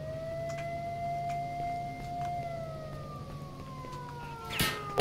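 A siren drones and slowly falls in pitch in S.T.A.L.K.E.R. Shadow of Chernobyl over a steady background hum, broken near the end by a sharp, loud burst.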